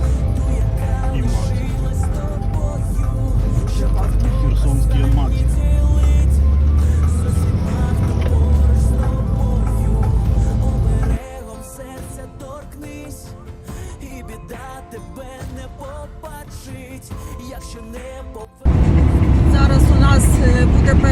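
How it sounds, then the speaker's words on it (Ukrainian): A Lada Zhiguli VAZ-2106 car driving, a continuous low engine and road rumble heard from inside, dropping quieter for several seconds before returning loud, with music or other sound layered over it. "Жигуль шестерка. Как был когда-то."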